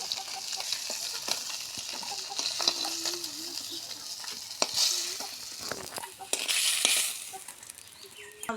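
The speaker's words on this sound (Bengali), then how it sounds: "মাছ ভাজা হয়ে গেছে, এখন আমি তুলে নিব।" Fish fries in hot oil, a steady sizzle broken by scraping clinks of a spatula stirring and lifting pieces, with a louder burst of crackling near the end and a faint voice in the background.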